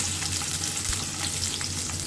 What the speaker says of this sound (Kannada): ಆಯಿಲ್ ಹಾಕೊಂಡು ಎಲ್ಲ ವೆಜಿಟೇಬಲ್ನ ಸ್ವಲ್ಪ ಸ್ಟೀರ್ ಮಾಡ್ಕೊಳ್ಳೋಣ